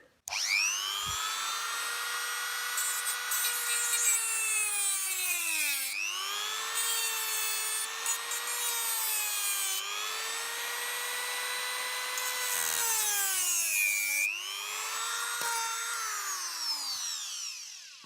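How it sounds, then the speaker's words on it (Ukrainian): A high, whining handheld rotary cutter runs almost nonstop on scrap metal, pitch dipping and rising as it bites in, with short gaps between long cutting passes. "Тільки болгаркою не буду, а таким фрезером зараз трошки цей, він тихіший і акуратніший."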